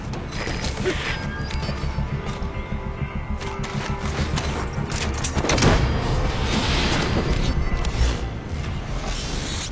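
Cover fire in a video game: dense, continuous gunfire bursts and crashes that swell into heavier booms partway through, loud and mixed with mechanical clatter.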